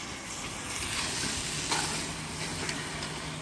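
Mutton curry paste sizzling in a pan after water goes in, a steady close crackle with soft stirring scrapes and a couple of sharper clicks, no voices.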